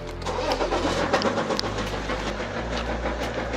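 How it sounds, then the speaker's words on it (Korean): A 2007 BMW X5 E70 30d diesel SUV with 270,000 km cranks and catches, settling into a loud, rough, rumbling idle with a steady low drone; the engine has a knocking fault and smokes white. "자, 시동을 한번 걸어볼게요."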